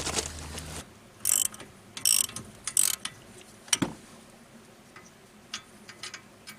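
A wrench ratchets loose a bolt held with yellow Loctite during a 2006 Ford Taurus front wheel bearing job, giving a few sharp clicking bursts and one loud crack as it breaks free, close up with no talking.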